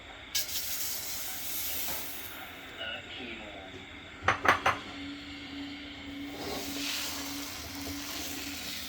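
Beaten egg hits a dry, unoiled pan and hisses in a sustained wash of sizzle, with a quick burst of metallic clinks partway through.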